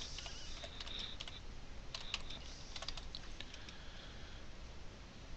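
A computer keyboard clicks in short irregular bursts while commands are entered for a wireless cracking setup, faint keystrokes over a steady hiss, without talking.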